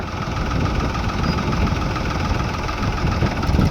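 A tractor engine runs steadily on a farm field during maize sowing, a continuous close, loud low rumble and idling drone with vibration and no pauses.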